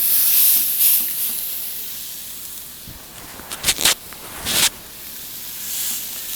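Seasoned meat searing in a grill pan turned up to high, a soft continuous hiss with a few louder sputtering spurts in the middle, close by and with no talk.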